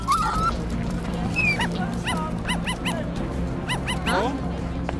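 A cartoonish puppy in the Roblox Brookhaven game gives repeated high yips, barks and whimpers in quick clusters, loud and close over a steady game backdrop.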